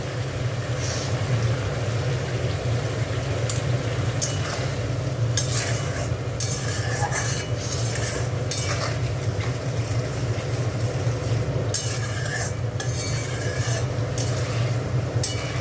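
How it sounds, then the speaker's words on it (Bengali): A spice paste for a cauliflower and potato curry fries in oil while a spatula stirs it continuously, a constant close sizzle broken by repeated scraping strokes against the pan. "এখনো অনেক কষা হবে, মশলাটা আরও কষতে হবে।"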